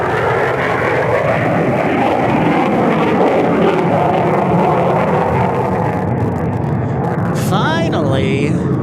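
An Air National Guard F-16 taking off on afterburner at Tucson International Airport, a loud sustained rumbling roar filling the whole clip, with a brief whistling sweep near the end.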